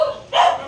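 A single short dog bark or yip rings out close and loud from a pet dog at home, alone with no talk.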